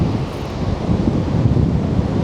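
Strong gusting wind buffets the microphone on a flooded Benidorm beach, with surf rumbling steadily beneath it in a loud, continuous roar and no voices.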